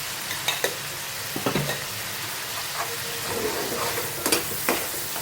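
Sev usal masala with coriander-cumin powder, asafoetida, red chilli and a pinch of salt being stirred in a pan over a full flame, a steady sizzle broken by repeated scraping strokes of the spoon.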